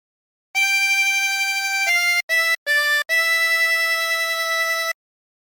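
A phrase of Home on the Range plays on a chromatic harmonica as a few sustained, reedy notes with short breaks between them. The tone is clean and close, with no talking.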